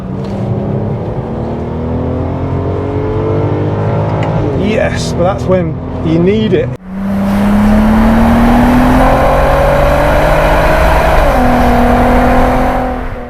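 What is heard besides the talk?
VW Golf Mk4 R32 DSG engine and exhaust burble while driving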